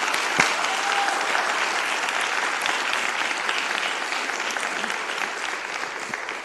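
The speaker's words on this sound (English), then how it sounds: "Can we give her a round of applause" A city council meeting audience gives a sustained round of applause, a dense, even wash of clapping that holds steady throughout with no talk over it.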